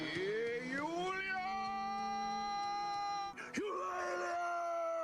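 A long, loud warbling badger battle cry with rising and sliding tones, followed by a sharp gasp and a second high yell.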